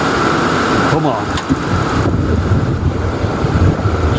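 A diesel-era 1995 Georgie Boy Swinger 32 ft motorhome's heater igniting outdoors, giving a steady rushing roar of hot exhaust air that stays loud and continuous throughout, with brief faint clicks mixed in.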